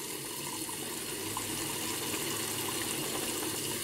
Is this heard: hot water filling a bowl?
yes